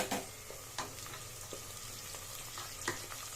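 Softened onions and green chillies fry in a pan for egg biryani, a quiet continuous sizzle broken by a few sharp spoon scrapes and taps, with no voices.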